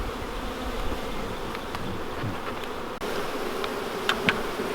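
Honeybees buzzing around an open hive during a hive split, a steady close swarm drone with occasional louder passes of individual bees near the listener.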